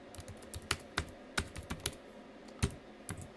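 Close computer keyboard typing comes as a quick, irregular run of crisp key clicks with a few heavier strikes, with no talk.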